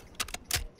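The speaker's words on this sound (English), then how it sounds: "Changing mag." A rifle magazine is swapped in a modern military shooter, two or three quick metallic clicks and rattles close up, brief and crisp with nothing else around.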